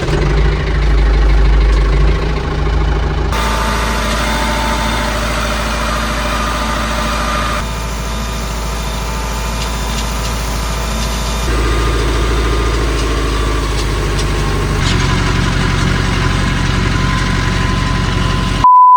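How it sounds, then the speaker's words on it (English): Old tractor engine idling during haymaking, a loud, steady low rumble with a constant mechanical drone that shifts slightly in tone between sections, heard close and alone without talk. "The tractor's got an issue, and I don't really know what it is."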